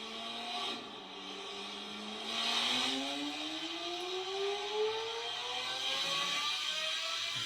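Lamborghini Aventador S V12 fitted with a full valved exhaust and equal-length downpipes, its engine note climbing steadily in pitch as it revs, loud and sustained with no voices.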